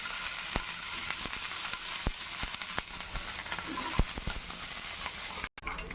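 Oil crackles and sizzles steadily in a pan at the start of a coriander and tomato chutney, with scattered sharper pops over a continuous hiss and no talking.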